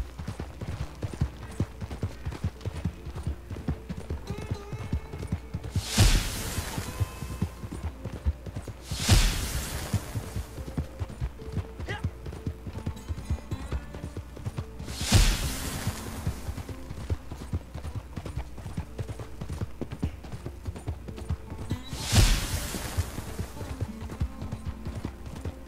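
Norfolk Roadster horse galloping in Red Dead Online, a steady rapid clip-clop of hooves running throughout, with loud whooshing bursts sweeping past every few seconds and no talk.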